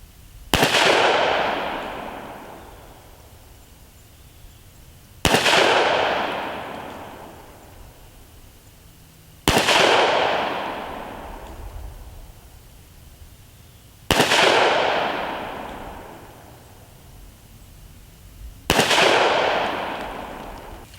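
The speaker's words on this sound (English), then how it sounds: "Shot a 5-round group from 25 yards." Five loud 9mm pistol shots are fired outdoors at a 25-yard target, evenly spaced about four to five seconds apart, each a sharp crack followed by a long echoing decay, with no talk.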